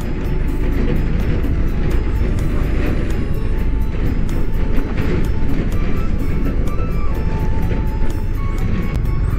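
A camera drone flies over a road construction site on the final section of the Jalur Lintas Selatan in Gunungkidul, Yogyakarta, giving a loud, steady whirring drone that fills the whole stretch without break.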